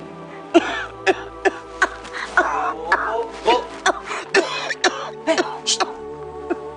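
Repeated harsh coughs, close and loud, coming in irregular bursts with brief gaps, some sounding strained and throaty.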